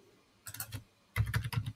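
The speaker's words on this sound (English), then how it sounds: "So I'm just typing inactivity." Someone types on a computer keyboard at a desk, with a short burst of key clicks followed by a pause and then a quicker run of close, crisp taps, and no one speaking.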